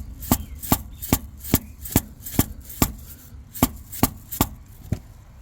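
A screwdriver is hammered into the gap between the engine and transmission of a 2020 Chevy Express 3500 LS van with a 6.0L engine. About a dozen sharp metallic strikes fall in a steady, evenly spaced rhythm, close and crisp, without speech.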